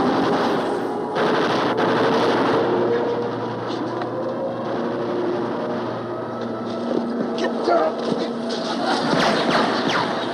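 An old fuse-lit cannon goes off in a loud, sustained burst of rapid blasts and rumbling that lasts about ten seconds, with raised voices faintly underneath.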